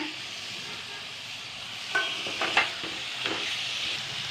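Chicken pieces sauté in a hot pan for Madurai-style banana-leaf parotta gravy, giving a steady close sizzle broken by a few sharp stirring scrapes and clinks midway.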